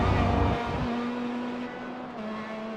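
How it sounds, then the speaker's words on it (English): Pro Mazda race cars at Interlagos circuit produce a steady, loud engine drone with a sustained tone, a heavier rumble at the start fading into continuous distant track noise. "I hear a million cars out there"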